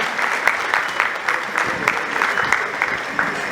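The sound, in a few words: audience applause welcoming a guest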